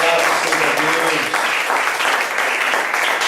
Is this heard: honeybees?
no